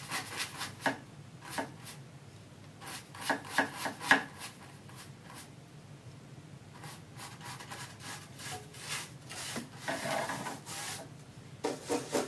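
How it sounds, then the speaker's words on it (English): Something is scrubbed in by hand in short, rough rubbing bursts close by, irregular strokes clustered with brief pauses between them, quiet overall and with no talking. "I'm just scrubbing that in."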